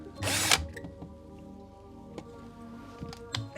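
A power drill runs in a brief loud burst as a bit widens a hole in a Hasbro Neutrona Wand toy housing, followed by quiet handling clicks and taps.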